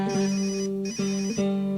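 A telephone rings in a steady electronic tone in short repeated bursts, loud and close, with no talking.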